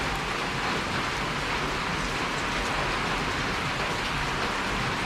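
Steady heavy rain falls in warm tropical Laos, a dense continuous hiss of drops on surfaces that stays even and close throughout, with no voices.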